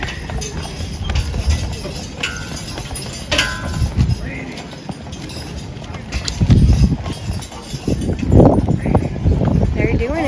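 Horses clip-clopping on a street on Mackinac Island during a Fourth of July garden tour, hoofbeats coming and going amid people talking nearby and a louder burst of hooves passing close.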